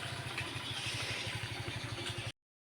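A scooter being ridden by a learner rider runs with a steady, pulsing mid-pitched engine hum, fairly close and continuous, then cuts off abruptly.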